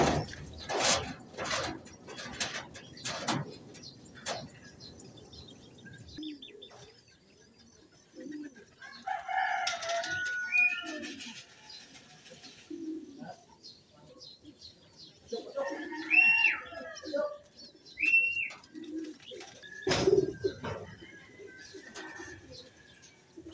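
Racing pigeons at a loft in the Philippines during a club race arrival, with soft intermittent cooing and wing flutters, some louder bird calls and a rooster-like crow, under occasional distant voices.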